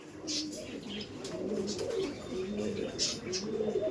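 Giribaj pigeons at a pigeon sale coo in low, repeated murmurs, with brief chirps and a flutter, close by and mixed with crowd chatter.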